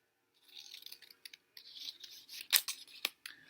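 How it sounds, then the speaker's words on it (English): Scissors snip through folded paper to cut out triangles, a close sequence of crisp cutting and rustling strokes with short pauses, no voices. "I'm just going to start cutting out triangles."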